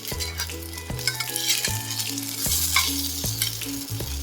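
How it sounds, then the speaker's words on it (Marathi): A homemade breakfast for a toddler frying in a pan after being flipped over, with a close, steady sizzle and crackle broken by several sharp knocks of the utensil against the pan. "एक साइड पलटून घेऊ."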